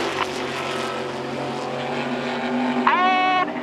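A Spitfire flying at the Goodwood Festival of Speed air show, a steady distant engine drone throughout with a rising tonal whine near the end, heard outdoors with faint background noise.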